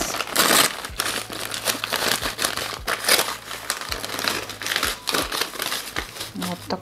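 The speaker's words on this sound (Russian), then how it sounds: "Далее давайте распакуем большой пакетик." A large plastic packet from a surprise toy set is unpacked, producing loud, close crinkling and rustling in repeated bursts, with a voice speaking intermittently.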